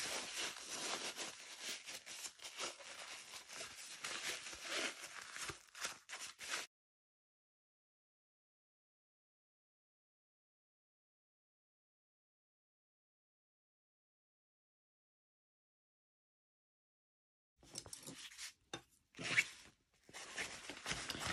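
A coated fabric bowl cover is turned inside out, making close, crisp crinkling and rustling in a dense stretch, then a long silence, then a few more scratchy rustles.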